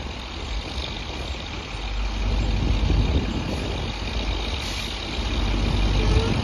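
A dump truck idles with a steady, loud, rumbling drone while its bed is raised to unload chopped feed during corn harvest. The drone swells slightly partway through.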